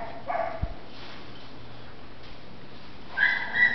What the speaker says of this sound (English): Here's more puppies.